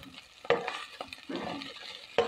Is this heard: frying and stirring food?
yes